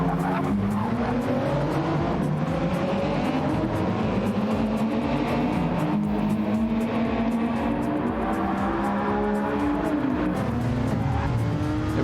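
Engines of racing cars in the Flatout video game racing on the Monza circuit, a dense continuous drone of many engines with rising and falling pitch, plus tire squeal and skidding, loud throughout.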